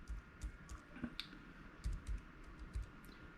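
Soft, quick clicks of keys being pressed on a Bluetooth keyboard paired with a Sonim XP5s basic phone, about a dozen taps in an uneven rhythm, close and quiet.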